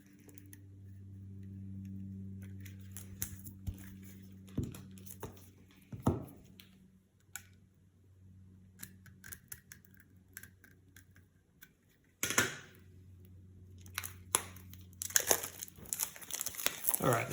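A knife slits the shrink wrap on a boxed Dragonbane game master screen. Crinkly plastic rustles and sharp tearing come in bursts over a low hum, with quiet pauses between the louder crackles near the end.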